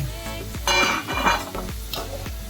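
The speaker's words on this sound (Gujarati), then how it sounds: "આવી જ રીતે આપણે બીજી પણ ચિપ્સને આવી રીતે ડબલ ફ્રાય કરી લેવાની છે" Chilli potato chips are double-fried in hot oil, giving a steady close sizzle broken by a few stirring scrapes and bubbling swells over two and a half seconds.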